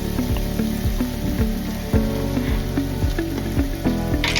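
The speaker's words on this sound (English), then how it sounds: "So just stir fry everything together." Vietnamese street-food snack being stir-fried with chili paste, a steady loud sizzle with repeated sharp clacks of a utensil against the pan at a quick, uneven rhythm, close by and without voices.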